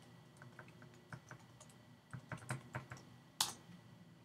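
Keys clatter on a computer keyboard as a router login password is typed, a quiet irregular run of close taps that ends in one sharper, louder keystroke.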